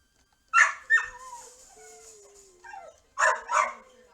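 Pet dogs bark and whimper indoors, several sharp close barks followed by a long high whine that trails off, then two more barks, fairly loud with no talk over them.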